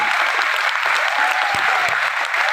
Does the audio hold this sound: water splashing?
no